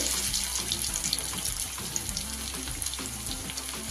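Soybean and cabbage pakoras, shaped into small balls, frying in hot oil with a steady, close sizzle and bubbling crackle that holds without break and has no voices over it.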